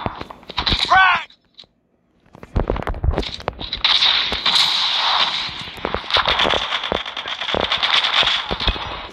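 A frag grenade explodes in Call of Duty Mobile gameplay: sharp loud bursts and crackling blasts follow a brief pause, with dense gunfire-like impacts continuing.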